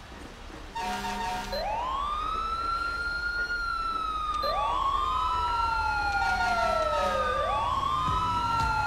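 Emergency vehicle sirens in GTA 5 wailing as units respond to a train derailment fire, with long rising and falling sweeps repeating steadily over a low engine rumble, loud and continuous with no talk.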